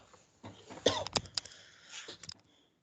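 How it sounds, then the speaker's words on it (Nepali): A man teaching a power-systems lesson coughs a few times in short, rough bursts, fairly quiet and close, then goes silent. "मलाई खोकी लाग्न थाल्यो"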